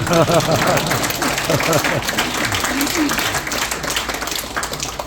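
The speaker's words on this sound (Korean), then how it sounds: "여기서 박수가 한번 나와야" Applause rises from a banquet audience at a military award celebration in a Seoul hotel, broad steady clapping running the full length, mixed with a speaking voice and some laughter over the top.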